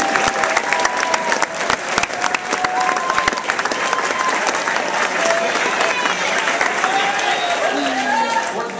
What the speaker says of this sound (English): How about one more round of applause for the ladies today in the top 15?